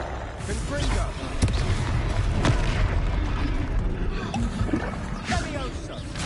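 A Confringo blasting spell bursts with a booming explosion during Hogwarts Legacy combat on PS5, set within dense, noisy battle sound and character voices.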